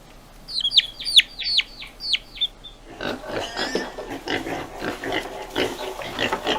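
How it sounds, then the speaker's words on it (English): A few quick bird chirps come first, then a pig grunts and oinks in a steady run of short, snorting calls, close by and moderately loud. "pig"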